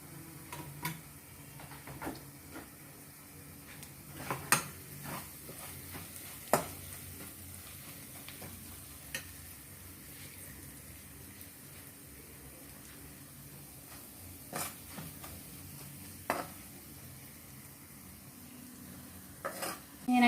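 Spinach fries quietly in a pan with a steady low sizzle, broken now and then by sharp taps and scrapes of a utensil stirring the greens.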